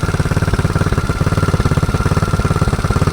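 A Predator 224 engine on a mini quad idles loud and close with a fast, lumpy pulsing beat that runs rough and uneven throughout, with no talk.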